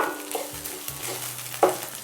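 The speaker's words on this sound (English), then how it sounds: "Let's give it a few quick stirs." Dried shrimps and chilies stir-fried in a pan with a soft sizzle, broken by a few quick scraping stirs and one sharper clank, close and alone.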